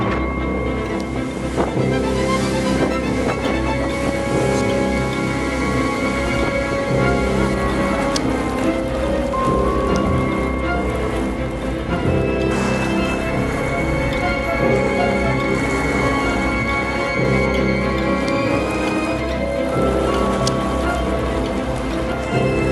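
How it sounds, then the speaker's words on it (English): Storm passing over the Great Masurian Lakes, with dense, loud rain and wind roaring steadily and water splashing throughout. "a storm passed through the Great Masurian Lakes"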